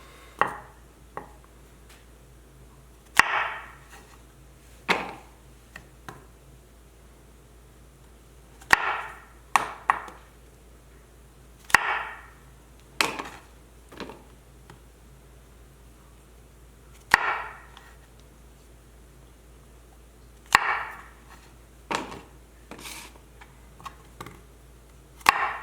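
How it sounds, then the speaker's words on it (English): Knife quartering cremini mushrooms on a cutting board, a series of sharp chopping taps in irregular clusters with quiet pauses between, close and alone with no talk. "So first we're going to quart each one of the mushrooms"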